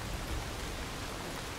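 Steady rain in the survival video game Soulmask, a dense, even wash of hiss that holds at a constant level for the whole short stretch, with no voices over it.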